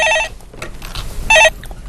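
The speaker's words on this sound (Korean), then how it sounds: "전화가 오셨다 그러네요." A telephone rings twice in a broadcast studio as a listener's call comes in, two short electronic trilling bursts separated by a brief pause with faint room sound.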